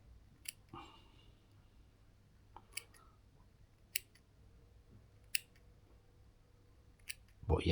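Scissors snip through a firm material, about six crisp cuts spaced roughly a second apart over a quiet low hum, with no voices.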